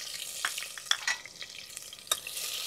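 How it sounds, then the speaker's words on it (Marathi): Onion sautéing in hot oil with cumin inside a pressure cooker, cooking for mutton pulao: a steady soft sizzle with a few brief stirring scrapes, close by and without any talking. "कांदा थोडासा परतून घ्यायचा आहे।"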